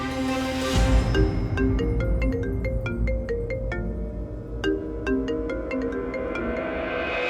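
A phone ringtone plays a bright repeating electronic melody, loud and steady, with no voices over it.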